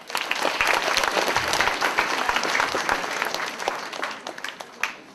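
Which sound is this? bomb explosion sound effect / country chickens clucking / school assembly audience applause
school assembly audience applause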